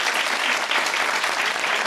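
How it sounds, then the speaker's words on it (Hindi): A studio audience at an Eid special variety show breaks into steady, dense applause that fills the whole stretch at an even, fairly close level with no talking over it. "इस पे भी तालियां बनती हैं"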